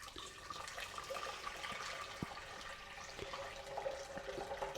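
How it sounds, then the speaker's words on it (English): Hot water from a kettle poured into a pan, a steady gushing, splashing stream at moderate level with a few small knocks, no talking. "I'm going to put water into my pan."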